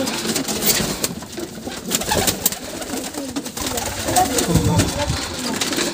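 A young pigeon chick cooing in a loft, soft low coos mixed with rustling and background noise while someone talks nearby.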